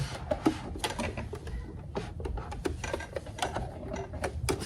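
A sewing machine runs steadily, stitching a lap zipper on fabric with a rapid, even mechanical chatter close by, alone without talk.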